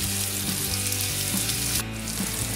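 Morel mushrooms frying in a pan, an even, continuous sizzle heard close up, with a low steady hum running underneath.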